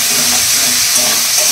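Onions fry with chilli paste in a pan for fried rice, giving a steady close hiss and sizzle with light stirring, heard alone without talk.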